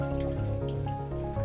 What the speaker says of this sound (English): Empty it out from the tube just by raising it up so it drains out.